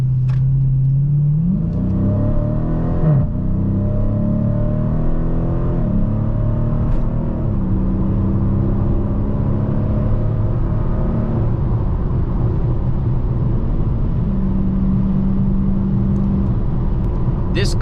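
2020 Dodge Challenger Scat Pack Widebody at wide open throttle: loud in-cabin engine roar climbing in pitch through several gear changes, then settling into a steady cruise drone with road rumble, voice talking over it.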